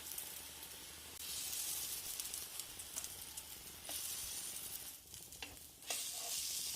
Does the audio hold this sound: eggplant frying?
yes